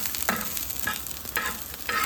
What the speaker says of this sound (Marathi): आता इथे आपण मिरची आणि लसूण टाकलेलं आहे. ते पण आपल्याला व्यवस्थित भाजून घ्यायचं आहे.